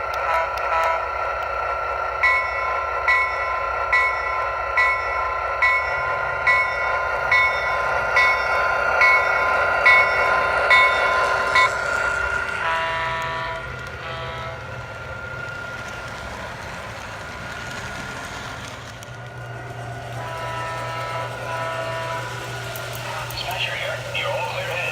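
A Lionel John Deere LionChief ready-to-run toy train runs on its track, sounding repeated whistle or horn blasts over a rhythmic rolling clatter that later settles into a steadier hum, with voices talking at times.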